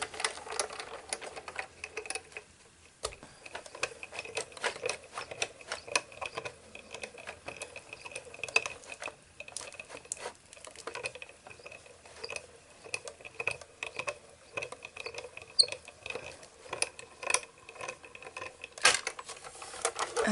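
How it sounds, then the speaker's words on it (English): A hand-cranked die cutting machine runs a metal plate sandwich through for a paper rosette border, producing faint, irregular clicks and ticking mechanical rattles throughout. "bring back my die cutting machine, and just run it through one more time to continue the pattern"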